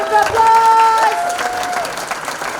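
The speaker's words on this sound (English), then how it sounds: "Give him another round of applause." An audience at a live stand-up comedy show bursts into applause and cheering, loudest at the start and then tapering off, with a musical sting playing over the crowd.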